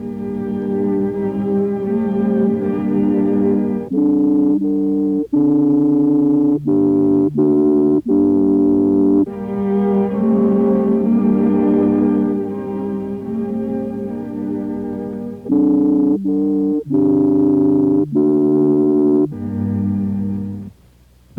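Stringed instruments playing in alternating passages, one tone colour set against another, the phrases switching back and forth with brief gaps between sections, steady and fairly loud throughout.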